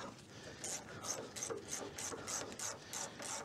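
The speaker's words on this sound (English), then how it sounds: "It's a 13 millimeter. I only got a quarter inch ratchet on it." A quarter-inch ratchet turns a 13 mm bolt while disassembling a seized VW Beetle engine, giving a steady series of about nine close, crisp clicking strokes in an even rhythm.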